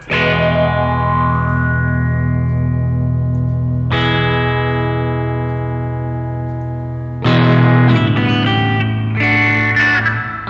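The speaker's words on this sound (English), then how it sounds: "I'm gonna try this with the reverb." Sustained guitar chords ring out with a washy reverb tail, struck three times, each new strum blooming over the fading previous one.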